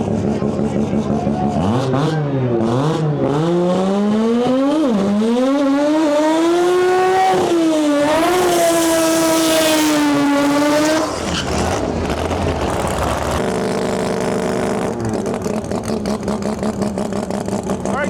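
Drag racing engines scream at full throttle at a World Cup Finals qualifying event, a loud rising and falling howl through gear changes with a high revving sweep, and an announcer talks over the roar.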